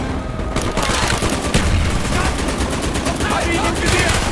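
Rapid automatic gunfire from the video game Call of Duty: Black Ops, dense bursts of loud shots with booming hits throughout, alongside shouting voices.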